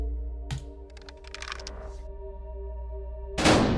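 A shotgun fires in the video game Buckshot Roulette: a sudden loud blast at the end, after a stretch of low droning hum and light clicking handling sounds.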